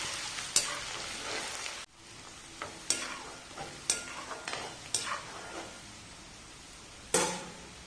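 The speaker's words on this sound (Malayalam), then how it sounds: "വെളിച്ചെണ്ണ ചൂടാകുമ്പോൾ അതിലേക്ക് ആദ്യം വെളുത്തുള്ളിയും ഇഞ്ചിയും ചെറുതായി അരിഞ്ഞത് ചേർത്ത് കൊടുക്കാം." Chopped garlic and ginger frying in hot coconut oil while being stirred, a steady sizzle broken by repeated scraping stirs and a brief pause, loud and close with no talking.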